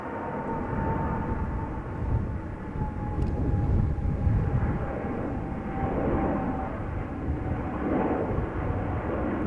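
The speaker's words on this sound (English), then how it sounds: "777-200 departing from center." A Boeing 777-200 airliner departs from the runway at Amsterdam Schiphol, its engines giving a continuous broad rumble with a faint whining tone, steady and moderately distant, with no talk.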